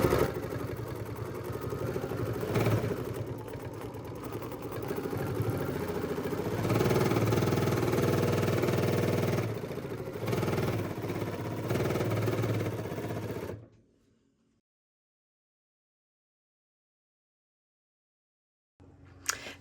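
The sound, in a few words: sewing machine stitching with foot control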